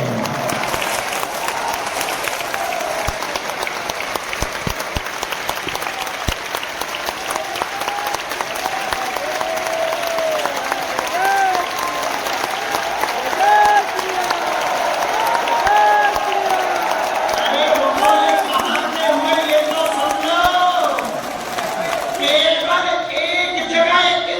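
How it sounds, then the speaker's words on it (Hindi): Sustained applause from a large crowd at a religious gathering, steady dense clapping that keeps going for the full stretch with a few faint voices beneath it. "कम से कम 1 मिनट तक आपकी ताली बजनी चाहिए"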